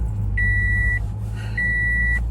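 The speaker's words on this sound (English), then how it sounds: "Horrible beeping sound." Two harsh electronic beeps sound inside a moving car, each a steady high tone lasting about half a second and separated by a short gap, over a constant low road and engine hum.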